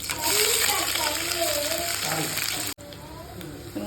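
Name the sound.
onions and curry leaves frying in oil with mustard seeds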